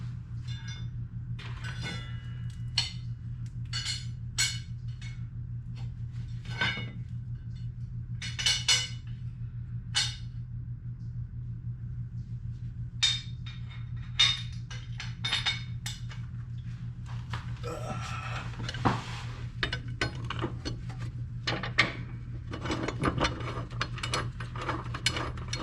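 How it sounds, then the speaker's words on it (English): Mulching blades go onto a Gravely Prostance 48 mower deck with a wrench, producing repeated ratcheting clicks in short bursts over a constant low hum, close and fairly quiet. "Time to put the last set of blades on."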